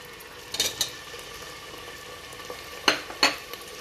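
Onions sizzle in a hot pan with whole cumin seeds, salt and two bay leaves: a steady, fairly quiet fry hiss broken by a few sharp clinks and scrapes of stirring.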